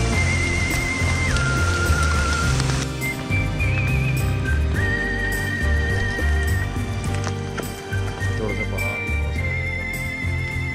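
Mountain horse carrying riders on the Kashmir Great Lakes trek, hooves clip-clopping and a neigh heard close up amid a dense, loud mix of music-like tones and background sound throughout.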